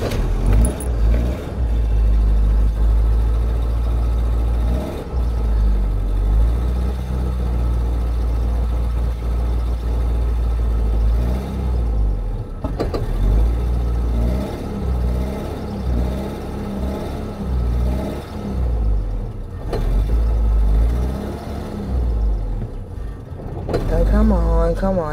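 A car engine idles roughly with a steady low rumble, faltering briefly at moments, while people talk close by.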